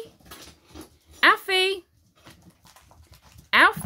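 A six-week-old English Springer Spaniel puppy lets out a short, high whimpering whine among scattered nearby voices and handling noises during indoor training.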